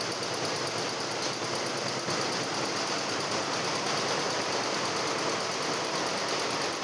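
An industrial embroidery machine stitching a design onto a panjabi in a garment factory, running as a dense, steady mechanical chatter at close range for the whole stretch.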